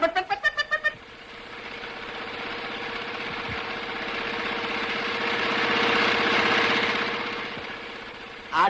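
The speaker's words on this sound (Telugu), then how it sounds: "ఆ ట్రాక్టర్ తో రాజా ఊళ్ళో ఉన్న పొలాలన్నీ 3 రోజుల్లో దున్ని పారేస్తాడు." A tractor engine runs nearby with a steady, droning mechanical hum that swells slightly toward the end, preceded by a few short rhythmic bursts at the start and no talking.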